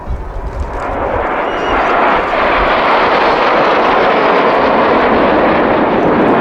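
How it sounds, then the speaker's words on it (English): RAF Red Arrows Hawk jets flying in formation at the Kauhava airshow give a loud, continuous broadband roar that swells and holds steady throughout. "The aircraft flying a formation known as Leaders Benefit."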